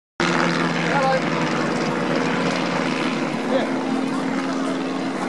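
Great War display aircraft at the Farnborough airshow depart behind the display area, their engines making a loud, continuous propeller drone that starts abruptly and holds steady throughout.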